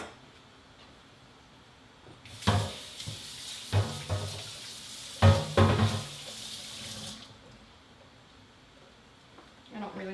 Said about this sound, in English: And I'm just gonna rinse this.